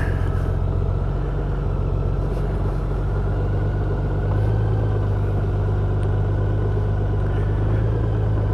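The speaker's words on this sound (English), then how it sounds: "Gotta love this reverse gear." A vehicle engine runs steadily in reverse gear during a ride near Blue Ridge, Texas, a close, continuous low rumble and hum that swells slightly partway through, with no talk over it.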